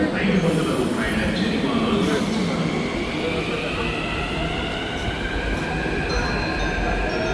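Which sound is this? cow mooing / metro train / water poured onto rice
metro train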